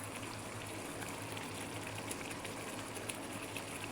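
Iraqi tomato sauce bubbles continuously in a cooking pot, a close, dense simmering hiss with constant small pops and no pauses.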